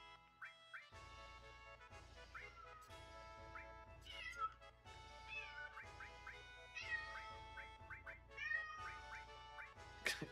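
A house cat meows over and over, loud and close, with varied drawn-out cries following one another in a steady stream, no voices alongside.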